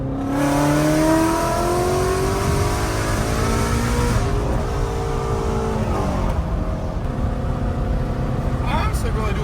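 Shelby GT350 V8 sports car accelerating hard in third gear, the engine note climbing steadily in pitch and loudness from inside the car before a shift and renewed pull, with a person talking over it.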